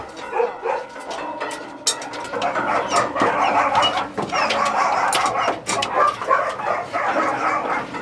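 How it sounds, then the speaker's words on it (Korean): Several caged dogs whining and yipping excitedly, a busy, continuous chorus of high, thin cries with scattered sharp yelps, heard close. "지금 낑낑낑 소리도 너무 좋아서 그래"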